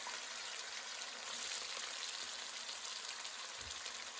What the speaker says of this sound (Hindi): अभी हम चिप्स फ्राई कर